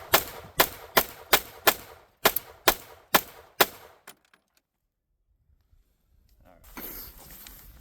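Nine sharp, loud gunshots from 9mm and .45 ACP handguns fired at a car door ring out in a quick, fairly even series. Silence follows, then a faint rustling.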